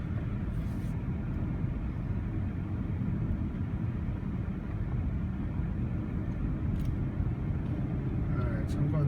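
A BMW 7 Series picks up speed on a freeway, heard from inside as a steady low engine and road rumble that runs the whole time without letup.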